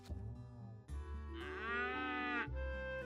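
In the video game Chocobo's Mystery Dungeon, a cow gives a long, drawn-out moo after a shorter lowing call, both close and fairly quiet, with no speech.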